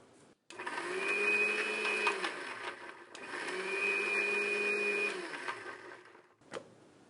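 Kitchen mixer grinder crushing roasted masala with ginger, garlic, tamarind and salt in two long, loud whirring bursts with a high whine, separated by a short pause, then a clack as it stops.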